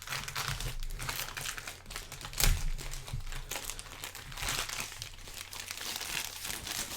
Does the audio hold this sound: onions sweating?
no